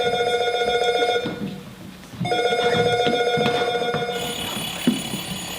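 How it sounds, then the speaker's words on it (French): A doorbell rings in a bright, sustained electronic trill, cutting off briefly and then resuming, with a higher tone joining toward the end, close and without talk. "Oh, ça sonne à la porte."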